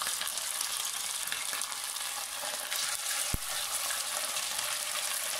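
Turkish meatballs sizzle steadily in a shallow layer of oil, a dense, even crackle and hiss throughout, broken by a single sharp tap partway through.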